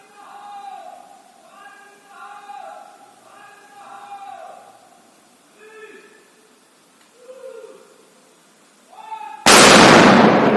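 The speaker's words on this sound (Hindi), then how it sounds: "बाकी सब प्रोटोकॉल्स को फॉलो करते हुए उस आईडी को ब्लास्ट किया गया कुछ इस तरह" Controlled blast of an IED set off by a bomb squad in Chhattisgarh: a sudden loud, broadband explosion closes the stretch, following a period of voices speaking.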